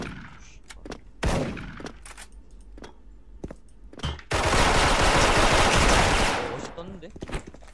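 Gunfire in the online shooter Special Force during a clan match: scattered single shots and short bursts, then a loud sustained automatic burst lasting about two seconds before trailing off into more sporadic shots.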